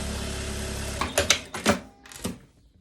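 Sewing machine stitching a seam on linen, turning the facing to sew along the inside: a steady motor whir at first, then a few short, loud bursts of stitching that stop and start before fading out.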